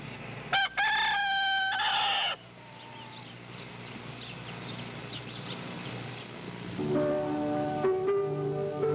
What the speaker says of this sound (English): That's a Lancaster County, Pennsylvania rooster and some of the countryside there.